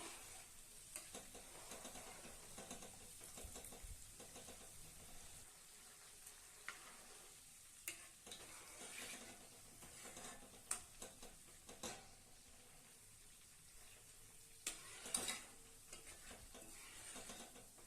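Homemade ghee from milk cream sizzles quietly in a pan with a soft, steady bubbling hiss, broken by occasional light crackles and taps.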